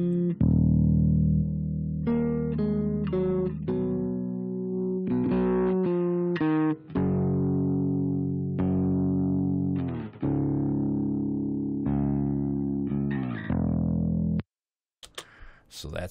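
A soloed bass guitar track with blended-in distortion plays a short run of gritty, buzzing notes, sustained and loud, with a brief pause before the final notes and no talking.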